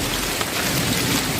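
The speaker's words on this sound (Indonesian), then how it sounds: "Hujan" Heavy rain pours down steadily on a mountain trail route up Slamet via Guci, a dense, loud, unbroken hiss with no gaps.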